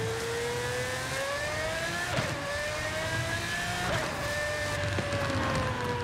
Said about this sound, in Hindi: इसका ये नेचुरली एस्पिरेटेड इंजन क्या आवाज़ करता है ब्रो